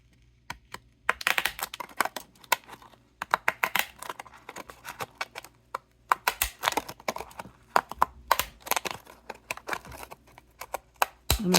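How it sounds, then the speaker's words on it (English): Decorative scissors snip through paper scraps and reused packaging for an art junk journal, a rapid series of sharp, close clicking cuts in irregular bursts with short pauses between. "Some decorative scissors, so maybe I'll use this one."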